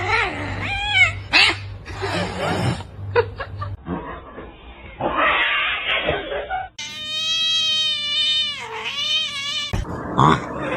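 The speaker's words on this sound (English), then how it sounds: "You silly kitty." A cat meows and caterwauls in long, loud, drawn-out wails at close range, with someone talking and chuckling between the cries.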